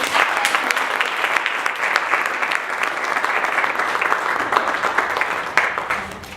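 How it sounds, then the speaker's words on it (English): Audience at an ICT empowerment launch event giving a round of applause, dense steady clapping from a crowd lasting several seconds, fairly loud and close. "Can you please give a round of applause for me?"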